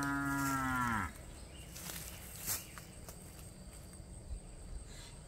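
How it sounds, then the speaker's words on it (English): Angus cows on a farm pasture give one drawn-out moo close by, the low call sliding down before it ends, followed by quiet outdoor ambience with faint scattered footsteps or shuffling. "These are Angus cows."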